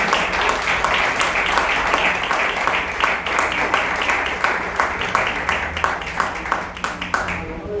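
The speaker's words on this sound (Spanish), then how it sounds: "denle un fuerte aplauso al Señor por sus vidas" A Sunday church congregation gives strong applause, many hands clapping at first in a thick wash that gradually thins into distinct, rhythmic individual claps, with faint voices underneath.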